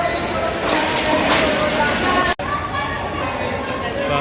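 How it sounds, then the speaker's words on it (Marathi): A train rumbles past at Beed railway station amid a huge noisy crowd, with steady mechanical roar and chatter blending together, close and loud throughout. "इतिहासात पहिल्यांदाच बीडच्या स्टेशनवर ट्रेन आलेली आहे डबे घेऊन"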